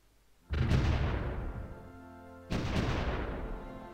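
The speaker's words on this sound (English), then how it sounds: "Yeah, they are trying to bombard" Two heavy artillery booms in Supreme Ruler Ultimate, a strategy war game, each striking sharply and rumbling away over a couple of seconds, the second landing about two seconds after the first, loud and with no talk.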